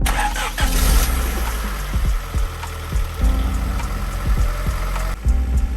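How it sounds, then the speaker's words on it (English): A 1987-91 third-generation Honda Prelude engine cranks and catches after a fuel filter install, then settles into a steady rumbling idle with a few clanks and knocks, close by. "Start the engine if no leaks."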